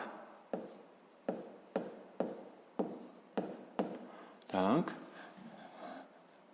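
A pen writes numbers by hand for a sixth-grade math exercise, making about ten crisp, evenly spaced strokes close by, with a brief voiced sound near the end.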